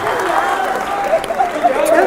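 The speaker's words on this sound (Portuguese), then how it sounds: "Mais palmas aqui, cara." Applause from an audience at a political rally, a dense, steady wash of clapping and crowd noise that holds at one level for the whole two seconds.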